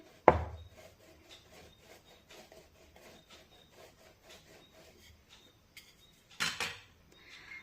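Rolling pin rolled over wheat dough sprinkled with poppy seeds, faint rhythmic rubbing strokes on a board, with a sharp knock at the start and a louder clatter near the end.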